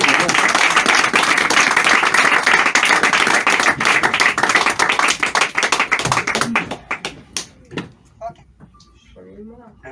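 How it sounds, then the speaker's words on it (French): A theatre audience at a hypnosis show in Le Paris de l'Humour applauds a volunteer in loud, dense clapping that holds for several seconds, then thins out and gives way to voices. "On peut l'applaudir aussi."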